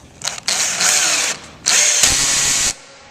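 A cordless drill driver drives screws into wood for a cutting box, its clutch slipping at the set torque in two loud, close, sustained grinding bursts separated by a short pause.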